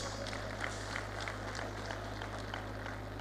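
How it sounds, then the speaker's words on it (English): An audience at an Oyo State symposium and lecture applauds, with scattered clapping heard faintly over a steady electrical hum in a large hall. "I think the SGF deserves another round of applause."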